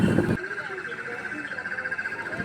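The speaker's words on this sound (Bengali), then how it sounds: "ঝিঝি পোকার ডাক থেকে শুরু করে ব্যাঙের ডাক পর্যন্ত সবই শুনতে পেলাম এখানে" Crickets trill in a continuous pulsing chorus, with occasional low frog croaks, after a brief burst of noise at the start; rural paddy fields beside a canal.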